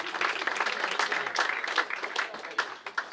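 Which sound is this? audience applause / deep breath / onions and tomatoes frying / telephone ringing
audience applause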